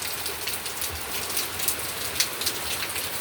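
Steady rain falls outdoors, a dense, even hiss of drops with occasional brighter patters, continuous and fairly close throughout.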